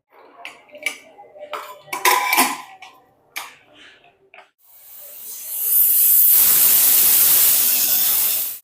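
A pressure cooker holding spinach and half a glass of water sits on the stove. A few clinks of utensils come first, then a rising steam hiss swells into a loud, sustained whistle.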